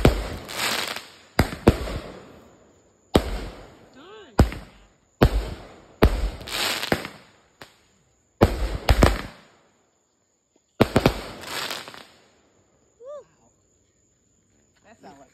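Fourth of July fireworks go off in a rapid series of about a dozen loud, sharp booms, each trailing a short echoing rumble, with brief pauses between bursts and occasional faint voices in the gaps.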